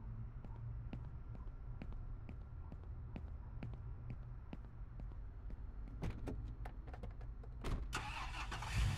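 Police car in the video game Police Simulator, its engine a steady low rumble throughout with small clicks, then a burst of door and handling noises near the end.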